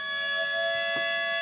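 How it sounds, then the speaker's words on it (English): A Minecraft train sound on The Dropper map gives a brief, steady, whistle-like tone, loud and sustained, with a faint soft thump partway through. "That's a train."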